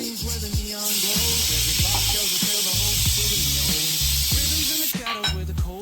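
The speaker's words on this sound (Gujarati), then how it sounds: "મમ્મી વઘાર કરે છે, શાકનો વઘાર કરે છે." Tempering spices for a Kathiyawadi kantola (spiny gourd) curry burst into a loud, sustained hiss and sizzle that lasts about four seconds, then cuts off abruptly, with faint rhythmic background sound underneath.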